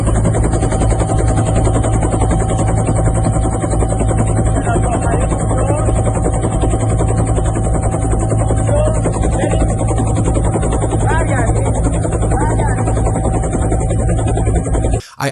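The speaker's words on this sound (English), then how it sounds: "Let's play that helicopter footage." Helicopter flying over a crowded funeral for Ayatollah Khamenei near a mosque, its rotor chop and turbine whine steady and loud throughout, with faint crowd noise underneath.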